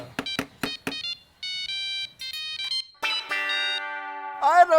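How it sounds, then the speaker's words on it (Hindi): A synthetic phone ringtone plays for an outgoing call, bright electronic tones in short bursts and then sustained melodic notes, loud and close with no talk over it. "मैं भी रोशन को फोन करके बताती हूँ"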